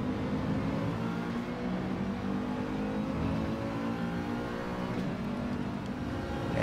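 Mercedes race car engine in a racing video game, a steady sustained drone held at constant loudness throughout with no voices, the engine note droning on without pause.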